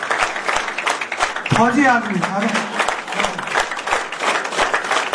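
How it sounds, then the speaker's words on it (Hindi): An audience at a Karni Sena workers' rally in Jharkhand claps steadily throughout, loud dense applause with someone speaking over it through a microphone. "वो जोर से ताली बजाए।"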